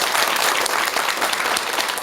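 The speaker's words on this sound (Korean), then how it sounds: "박수 한번 주세요." An audience at a Buddhist monk's lecture breaks into applause, a dense, sustained wash of clapping from many hands in a hall, steady and fairly loud throughout.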